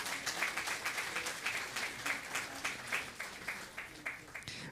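A church congregation applauds at a New Year's service, steady mid-level clapping from many hands in a room, with a few voices rising faintly beneath it.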